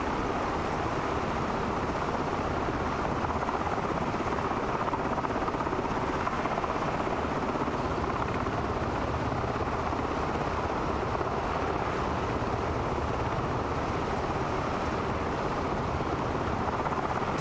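An MH-60 helicopter in flight inside the MSFS 2024 flight simulator, with a steady, loud rotor and turbine drone that holds constant throughout, with no talk.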